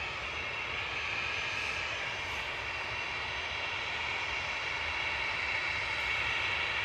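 Jet engines of a Brussels Airlines Airbus A319 at Manchester Airport, a steady broadband roar with a faint whine, constant and moderately distant throughout, with no voices.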